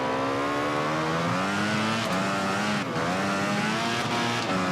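A Ducati MotoGP bike in VR46: The Game revs hard under acceleration during a race, the engine whine rising and dipping through gear changes, loud and continuous with no talk.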